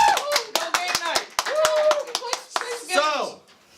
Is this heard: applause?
yes